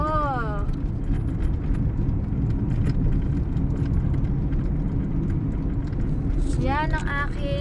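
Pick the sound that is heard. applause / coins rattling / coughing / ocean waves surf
coins rattling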